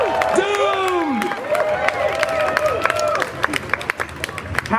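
A Disneyland show audience claps and cheers during a Deadpool storytime performance, a scattered burst of applause with crowd murmur, while a performer's voice carries loudly over it.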